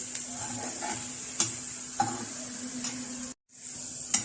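Fried onions and hot oil are poured into a pot of beef kala bhuna, giving a steady, soft sizzle with a few louder bursts and a brief drop to near silence before the frying resumes.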